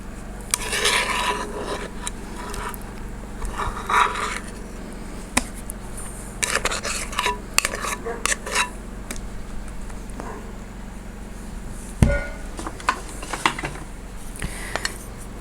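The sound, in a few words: scraping cake batter out of a bowl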